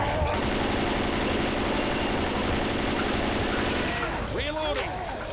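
Rapid continuous automatic gunfire in Left 4 Dead 2 during a fight against overpowered Tanks, loud and dense for about four seconds before stopping, with voices around it.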